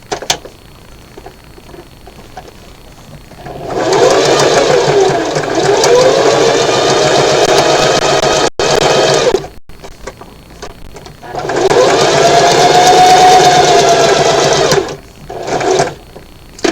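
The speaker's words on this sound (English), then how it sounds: "we just sew all the way around to close up that opening and give it a nice top stitch" A sewing machine top-stitching around a bow tie runs in two steady, close whirring stretches of several seconds each, with brief pauses and small clicks between them.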